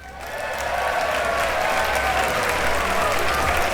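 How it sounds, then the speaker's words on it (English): A government palace chamber bursts into applause, many hands clapping in a dense, sustained roar that swells in the first half second and holds steady and loud to the end. "The chamber burst into applause."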